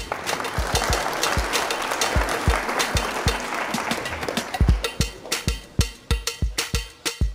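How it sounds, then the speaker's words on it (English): An audience at a business conference applauds to welcome a company CEO on stage, a broad clatter of clapping that thins out into sharper, separate thumps and footsteps, which grow louder and closer toward the end. "please help me give a warm round of applause to the CEO of Hootsuite, Irina Novoselsky."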